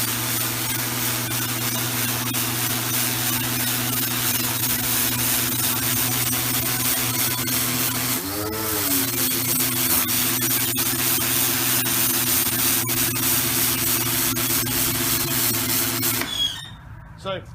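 A JetUSA pressure cleaner blasts water onto grime: a loud, steady spray hiss over a droning motor hum that dips in pitch briefly midway, then cuts out near the end.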